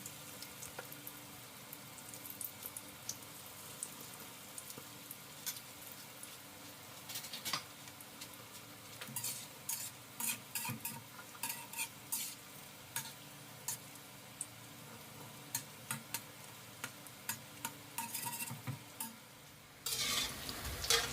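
Thin Thai fish cakes made from canned fish fry in hot oil with a soft, continuous sizzle. Irregular light ticks and spatters run through it, and a louder scrape comes near the end.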